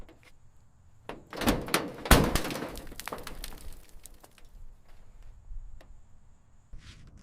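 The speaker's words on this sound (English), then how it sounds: "with a ton of force, we break the rust seal and wrench that stubborn driver's door wide open to expose the forgotten interior" A rusted driver's door on an abandoned Porsche 911 GT3 in the woods is forced open. A cluster of loud, close creaking, cracking and scraping bursts fades into quieter rattles and a faint final knock.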